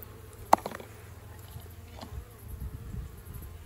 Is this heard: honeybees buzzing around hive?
yes